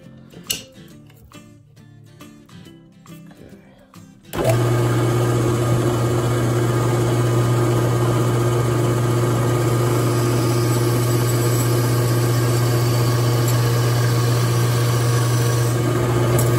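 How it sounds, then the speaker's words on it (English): A variable-speed pen-turning lathe runs at about 1500 RPM, a loud, steady motor hum with a constant whine that starts abruptly after a few seconds of quieter clattering and holds unchanged to the end. "I'm running my machine at about 1500 RPM"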